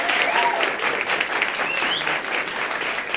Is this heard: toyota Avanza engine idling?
no